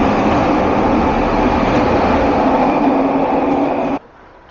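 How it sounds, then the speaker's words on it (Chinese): A loud, steady roar of a Vancouver SkyTrain fills the elevated Joyce station platform as trains arrive from both directions. The sound stays heavy and constant, then cuts off sharply near the end, with no talking. "现在呢，我已经在 SkyTrain 交易市的车站了，两边的车都来了"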